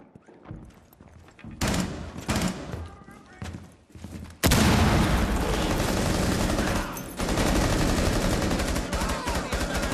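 Gunfire in the video game Rainbow Six Siege: sparse shots early, then sustained loud bursts of automatic fire that continue through most of the clip, with a player talking over them at times.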